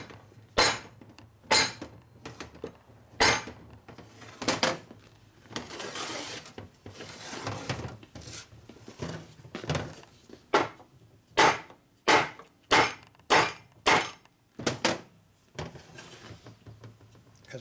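Someone hammers on the generator of a 1961 Harley Sportster XLCH to pop it loose during a motor rebuild, giving sharp metallic knocks at irregular intervals, bunching into a quick run of hard blows near the end, with scraping between strikes.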